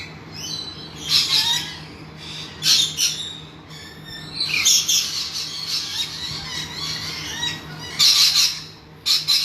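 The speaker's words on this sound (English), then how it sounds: "So those are rainbow lorikeets." Rainbow lorikeets in a park aviary give bursts of loud, harsh squawks that repeat in quick overlapping clusters, close by, with no talking.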